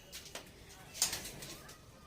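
A pet pigeon kept at home cooing softly nearby during cold weather; a few faint, low coos spread across the moment with quiet background noise.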